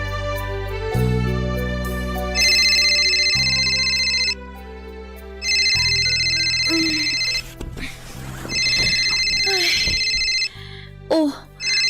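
A telephone rings in repeated electronic bursts, each trill lasting about two seconds with short gaps, loud and close over a steady low musical background with a sigh and faint voice sounds in between.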